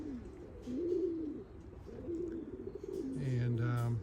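Racing pigeons and Birmingham roller pigeons coo in a loft, low rolling calls overlapping one another at close range, with a few brighter chirps and a deeper drawn-out coo near the end.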